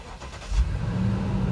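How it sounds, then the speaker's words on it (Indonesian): Lexus LX 570 V8 engine starting up: a short starter crank followed by a low, smooth idle settling in, heard close and fairly quiet. "Sekarang kita start up mobil ini."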